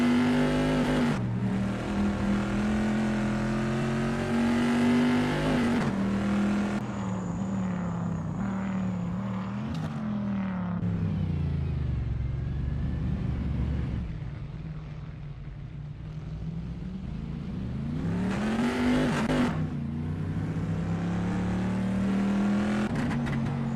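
An ACL GTC Bizzarini GT 5300 race car roars around Imola in a racing video game. The engine drones loud and close without a break, its pitch climbing and dropping through gear changes and corners.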